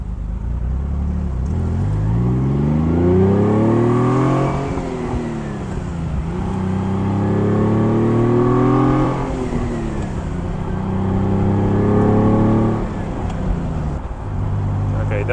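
A Ferrari Dino engine revs loudly and close up, pitch sweeping up through each gear then dropping on the shifts, three or four rising pulls in a row with no blipping on the downshifts.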